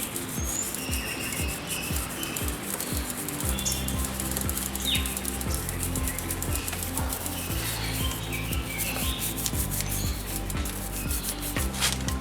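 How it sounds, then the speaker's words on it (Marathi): Toothbrush scrubbed rapidly and steadily over grimy bicycle parts, a continuous close brushing that runs the whole time without talk. "ह्या टूथब्रशनी मी ही घाण सगळी काढून टाकणार आहे."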